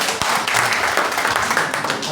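Congregation applauding during a Sunday church service, a dense steady wash of clapping from many hands lasting throughout, with some voices mixed in.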